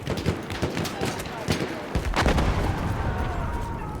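Pistol shots ring out in the Battlefield video game amid a busy battle mix, several sharp cracks spaced irregularly over distant gunfire and rumble, with a player's voice talking briefly over the action.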